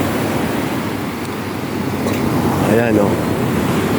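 Large waves roll on a murky, debris-strewn sea during a signal number 2 typhoon in Palawan, a steady roar of surf mixed with wind, and a voice briefly speaks over it.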